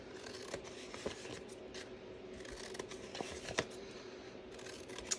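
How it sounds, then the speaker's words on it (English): Scissors cut cardstock along score lines in faint, close snips and rustles that come irregularly, with a few sharper crisp cuts. "take your scissors and cut from score line to score line"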